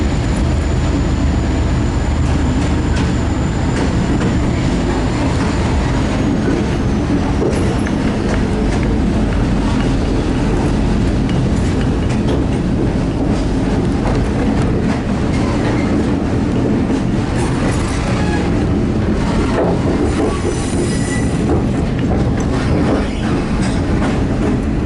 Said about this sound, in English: Before the end of the platform, the trains are going to very sharp right turn.